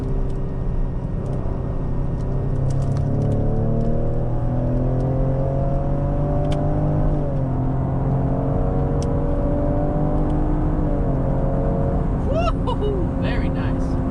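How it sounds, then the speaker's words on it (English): Ford ST performance SUV engine revs up and down in second gear after a downshift, heard from inside the cabin as a steady rising and falling drone over road rumble, with a person talking. "All right, so we'll downshift, we're in second gear."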